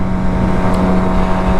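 A Suzuki GSX-R750 sport motorcycle drones steadily while riding through traffic, its engine hum loud and continuous under wind rush for the whole moment.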